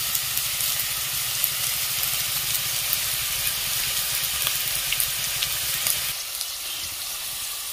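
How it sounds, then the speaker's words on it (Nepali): Slices of bitter gourd (karela) fry in oil in a pan over a medium gas flame, a steady close sizzle with a constant hiss and low rumble that eases slightly near the end, no talking. "यो करेला चाहिँ मिडियम फ्लेम ग्यासमा चाहिँ मजाले फ्राई हुँदैछ"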